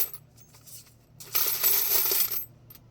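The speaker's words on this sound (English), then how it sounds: "some old brass that's already been turned into ingots, nice and heavy" Heavy brass ingots clatter as they are dropped together, a single bright metallic jingle and clank lasting about a second amid otherwise quiet surroundings.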